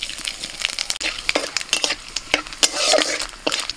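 Bay leaves, cardamom, cinnamon, cloves and cumin seeds frying in a little oil in a wok, close crackling sizzle broken by sharp spattering pops and the scrape of a stirring spoon.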